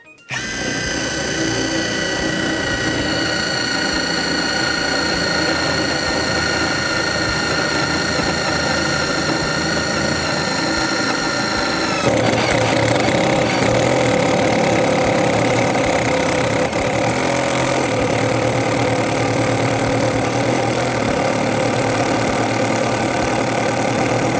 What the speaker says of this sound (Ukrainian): Давайте ми візьмемо другу швидкість і пробуємо сверлити двутавр.